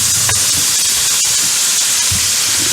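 Broccoli hitting hot melted butter in a pan gives a steady, loud sizzling hiss that runs throughout, with a few small crackles and pops.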